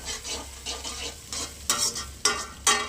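Onion and tomato sautéing in a pan for semiya upma, a steady close sizzle with a spoon scraping and stirring in repeated strokes, a few sharper scrapes toward the end.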